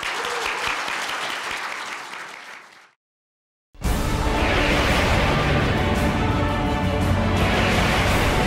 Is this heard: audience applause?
yes